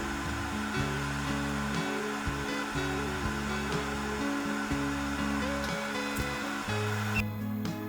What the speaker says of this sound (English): Put it on the BGA workstation. After heating to the melting point, remove the damaged CPU.